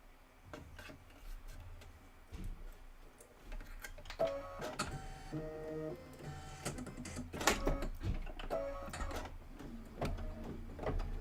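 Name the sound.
sewing machine satin stitching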